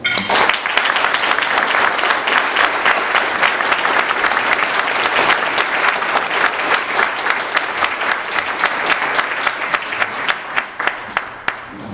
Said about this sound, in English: I know we've been giving rounds of applause all night long, but I think all of these special people deserve one more.